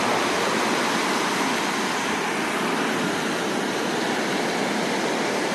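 Waves roll in at Gwangalli beach in Busan as a steady, loud wash of surf, dense and unbroken, with no voices over it.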